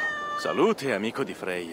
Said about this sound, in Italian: Che gatto grazioso.